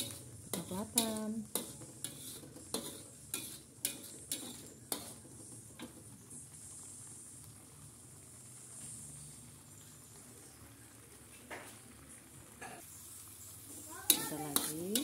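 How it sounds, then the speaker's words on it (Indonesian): Blended sambal paste for sambal pete sautéing in hot oil in a pan, with repeated sharp scrapes and clinks of a utensil against the pan over a steady low sizzle, busier at the start and end and calmer in the middle. "Sekarang kita tumis bahan-bahan yang tadi di blender sampai kecoklatan."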